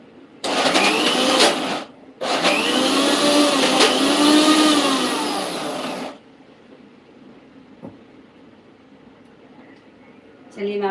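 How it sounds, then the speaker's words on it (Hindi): A mixer grinder whirs loudly as it blends a paneer modak mixture, running in two bursts with a short pause between them, then cuts off to a quiet room with faint background noise. "एक बार ना ऊपर नीचे करके मिक्सी में और घुमा दीजिए।"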